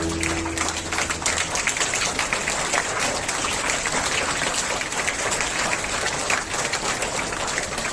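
Audience at a Worker's Day celebration at St. Michael's Sr. Sec. School, Pusa Road, New Delhi, clapping steadily and loudly for the whole stretch, a dense, even wash of applause with no voices over it.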